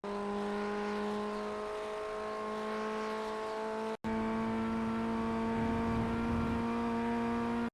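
Ray FF1600 formula race car engine at Laguna Seca in iRacing, holding a steady high drone in gear, briefly cut at one point before resuming at a strong, continuous level.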